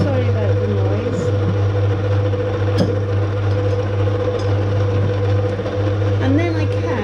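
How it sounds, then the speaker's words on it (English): A stand mixer runs on low speed, mixing bread dough. It gives a steady, loud motor hum with a low drone that continues without a break. "and I put the mixer on low."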